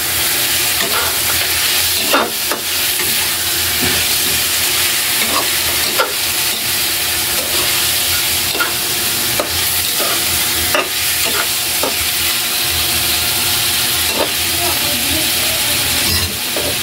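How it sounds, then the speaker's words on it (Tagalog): Chicken for tinola sizzles loudly and steadily in a hot pan, close up, with frequent clicking scrapes of a spoon stirring through the pieces and faint bits of voice in the background. "Haluin po natin para masunog"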